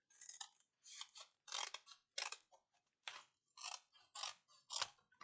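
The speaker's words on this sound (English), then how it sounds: "I could get an X-Acto knife, but I think I'll deal with the scissors." Scissors snip through cardboard packaging from cereal boxes in a rhythmic series of about nine crisp cuts, close and fairly quiet, with no talk.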